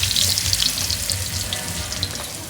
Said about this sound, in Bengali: পিকনিকের কিন্তু মাংসের তেলটা পড়ে গেল কড়াইতে